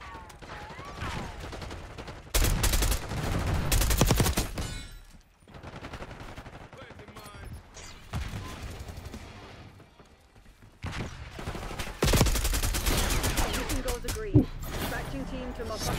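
Shooter video game gunfire, with several loud bursts of automatic fire separated by quieter stretches of game ambience, and a voice talking over parts of it.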